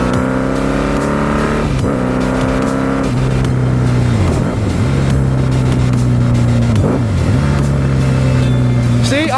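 A motorcycle engine being broken in runs loud and close, its revs climbing and dropping repeatedly in moderate pulls rather than hard, full-throttle bursts.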